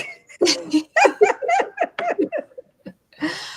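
A dog whimpers and whines in a run of short, high, breathy yelps and squeaks with brief pauses, close and fairly loud, ending in a longer whine.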